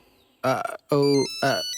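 A telephone rings indoors in a Bhojpuri film scene, three short, loud tonal bursts separated by brief gaps, close and clear.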